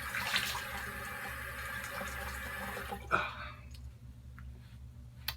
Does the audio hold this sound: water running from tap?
yes